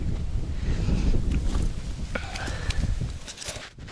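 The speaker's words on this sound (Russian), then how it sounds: "Вот такой вот сильный ветер сегодня дует." Strong wind buffets the microphone outdoors while fishing, in a steady, loud roar with gusty swells, faint rustling and a few light knocks beneath it.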